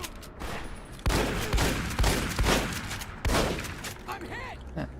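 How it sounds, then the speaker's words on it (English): Gunfire in Fallout: New Vegas, several loud bursts of shots in quick succession, close and forceful, with a voice briefly audible near the end. "Did you not hear all the gunfire outside?"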